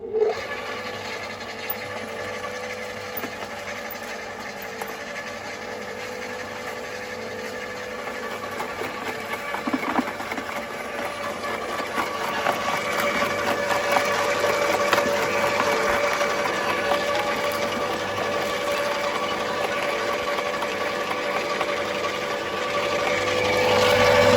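A FERREX GSR 2800 W garden shredder chews through cherry and grape branches, its steady motor whine rising gradually in loudness as the wood grinds and rasps through over about twenty seconds.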